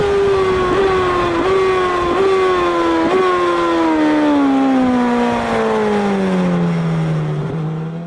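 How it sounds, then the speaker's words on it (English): A racing motorcycle trail brakes into Adelaide corner on a race track, its engine note loud and close, dropping steadily in pitch with short downshift blips as it slows. "this clip in Adelaide corner of me riding my JSXR, and you will see me trail braking until very late into the corner"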